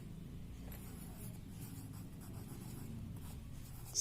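A pen scratches out an answer on paper, a continuous faint, close scribbling texture over low room hum, with no voices.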